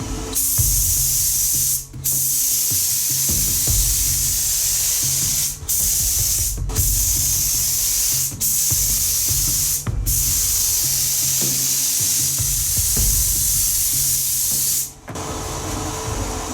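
Spray gun with a larger nozzle misting primer onto a rally prototype car, a loud steady hiss in long bursts broken by several brief pauses at roughly even intervals, close and alone.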